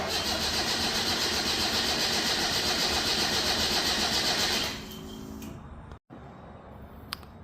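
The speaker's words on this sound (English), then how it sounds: "Let's see how our cold start's looking like." Datsun roadster EFI engine cold-cranking on 93 octane, a loud, rhythmic starter whir that stops abruptly, followed by a lower idle or sputter and then a brief silence.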